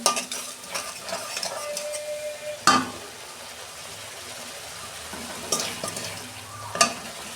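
Spice paste of turmeric, ground cumin and coriander with a little water fries in a pan, a soft steady sizzle broken by a few sharp clinks and scrapes of a spoon against the metal.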